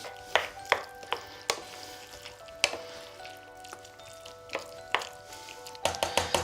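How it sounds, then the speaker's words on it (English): Chopped vegetables stirred in a large pot, with a series of sharp clanks and scrapes of a spoon against the metal at irregular intervals over a soft background sizzle. "So just stir this through to go right down to the bottom."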